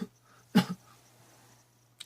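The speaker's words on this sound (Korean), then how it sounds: "기침도 나오고" A single short cough from an adult man partway through a Korean-language lecture, fairly close, with a faint second burst near the end and a low steady hum underneath.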